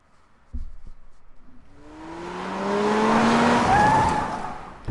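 A car in the game AI: The Somnium Files roars up after a short thump, its engine rising into a sustained tire skid with a long squealing tone that builds loud and fades at the end.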